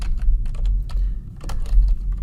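Fingers type a chart title on a computer keyboard, giving a steady run of quick, close key clicks over a low background hum, with no speech.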